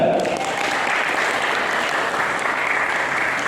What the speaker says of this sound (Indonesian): tepuk tangan dulu untuk Anda